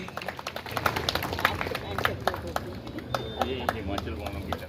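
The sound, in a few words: audience applause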